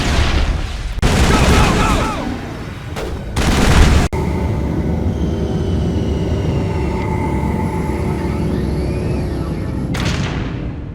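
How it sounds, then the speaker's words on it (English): A shootout in the video game Mass Effect opens with dense bursts of loud gunfire and booms, then drops into a sustained humming, whirring background with faint tones. "Open fire. Open fire!"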